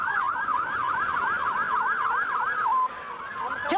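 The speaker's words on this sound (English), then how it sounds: "Kill the sirens." A close, loud wailing police siren sweeps rapidly up and down in a yelping pattern, then shifts to a steadier tone before cutting off near the end.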